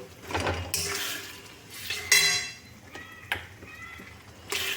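Potatoes, tomato, ginger paste and spices stirred in a metal pot, with scattered spoon clanks and scrapes against the pot and a faint sizzle between them, close and fairly quiet.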